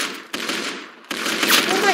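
Automatic gunfire from a weapon in the video game Star Wars Battlefront, rattling in dense rapid bursts that drop out briefly and then resume louder with a sharp onset, close and steady.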